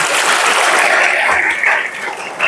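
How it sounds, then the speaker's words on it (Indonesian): An audience of women at an Isra Mi'raj gathering in a mosque claps hands together, a dense, loud, continuous wash of clapping that tapers slightly at the end. "Tepuk tangan dulu, Bu."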